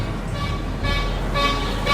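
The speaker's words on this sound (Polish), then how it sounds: "A to co słyszycie trąbienie, to pan jedzie i sprzedaje lody." Horn toots from an ice cream vendor's vehicle driving through the Polish neighborhood of Jackowo, a few short honks over steady street and traffic noise.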